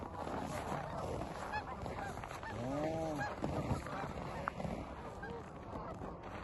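A large flock of waterfowl calling, honking goose-like cries overlapping continuously at moderate distance, with one clearer nearby call in the middle, outdoors with no talking.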